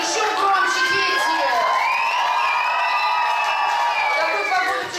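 A large crowd of children at a summer camp stage contest cheers and shouts loudly, sustained high-pitched whoops and screams swelling together for several seconds.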